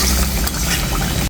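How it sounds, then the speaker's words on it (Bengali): Carp fish being stirred and turned in a frying pan while onion dopeyaja cooks, giving a steady close sizzle with soft scraping for a brief moment. "আর এখন আমি মাছটা একটু নেড়ে ছেড়ে দিচ্ছি উল্টে পাল্টে"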